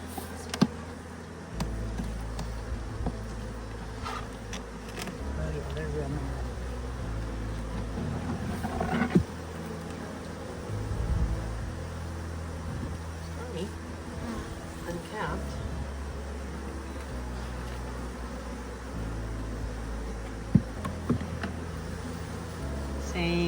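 Honey bees swarm and buzz steadily from an opened backyard beehive, a dense close drone with occasional louder passes near the microphone and faint handling noises, without speech.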